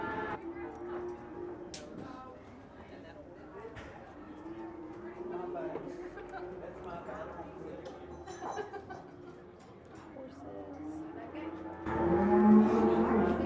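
Cows and calves at a livestock stockyard market low and moo at a moderate distance, with several drawn-out calls over steady crowd murmur and people talking, growing louder near the end.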